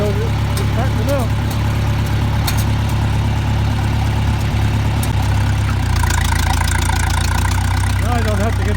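A tractor engine idles with a steady low rumble throughout, on a snowy farm while cattle are fed hay bales, with faint knocks and rattles over the drone.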